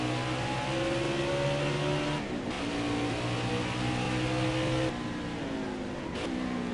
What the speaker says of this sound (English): Carried a little bit too much RPM right there.